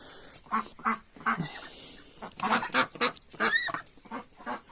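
Ducks, including three-year-old birds, quack in a string of loud nasal calls while bathing in a backyard farm setting, irregular bursts close by with short gaps.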